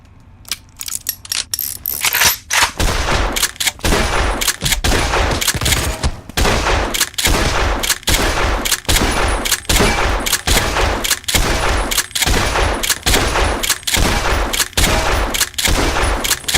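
Repeated bursts of enemy gunfire in Fallout: New Vegas, rapid volleys of shots recurring roughly every second, loud and close, after a quieter opening.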